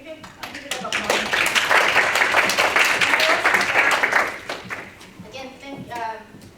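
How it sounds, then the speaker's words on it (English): Audience applause at an undergraduate women's studies conference session, a burst of clapping that swells, holds for a few seconds and tapers off near the end, with a voice speaking as it fades. "Just maybe a little bit of applause."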